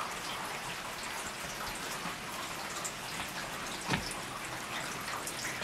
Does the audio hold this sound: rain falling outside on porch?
yes